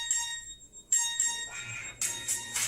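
A phone ringtone plays from an app: bright, bell-like chiming tones in short bursts, with a pause and then louder repeated chimes, clear and close.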